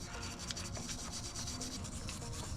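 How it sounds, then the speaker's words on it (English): Steady, continuous scrubbing on the caliper bracket of a 10th-gen Honda Civic where the brake pads seat, a close rasping rub repeating without pause. "that is to clean the bracket where it meets the brake pads. Scrub it down."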